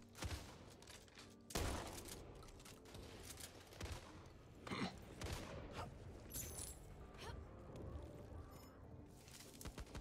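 Shotgun blasts boom in the game Back 4 Blood, several loud shots scattered irregularly among chaotic gameplay noise.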